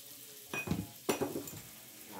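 A ground chili mixture is poured into a hot clay pot, giving two short bursts of sizzling and splashing with faint utensil clinks, fairly quiet and without talk.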